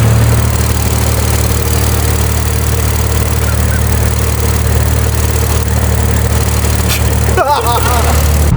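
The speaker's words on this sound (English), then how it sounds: "The turbo noises under low now with the charge pipe. It's so freaking loud, dude. It sounds so good." A Toyota Supra engine with a turbo and a new charge pipe runs loud and close, a steady heavy drone that fills the whole stretch, with voices briefly audible underneath.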